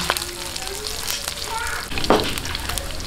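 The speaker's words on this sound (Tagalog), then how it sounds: "Ayan, gisa-gisahin lang po natin hanggang medyo siya mag-light brown." Ingredients sauté in a little oil in a pan until light brown while preparing ginisang labanos, a close, steady sizzle with occasional crackles and a brief stirring scrape, no talking.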